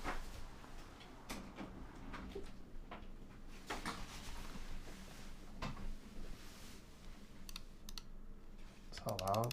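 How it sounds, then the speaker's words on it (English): Sharp, sparse clicks of a computer mouse near a Ginkgo65 Pro keyboard, irregular and fairly quiet, mixed with a few faint keyboard taps and a brief voice at the end. "This is how loud mouse clicks are at keyboard level"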